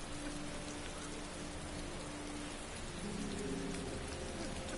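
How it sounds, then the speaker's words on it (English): Steady rain pours throughout a scene in the PS4 game Heavy Rain, a dense, even hiss with a low rumble beneath, growing a little louder toward the end. "It's always raining."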